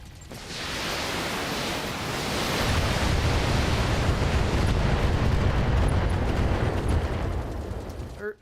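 A volley of long-range missiles fired at a quad medium laser turret in BattleTech builds into a sustained roaring rumble of launches and impacts, loud and continuous before cutting off at the end.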